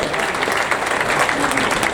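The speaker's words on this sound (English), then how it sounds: "Give Bruce a big round of applause for coming up and sitting in the chair" Audience at a live entertainment show applauds a volunteer who came up on stage, a brief steady burst of clapping from the crowd.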